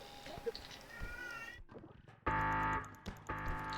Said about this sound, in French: C'est ton chat qui fait des bruits de bébé?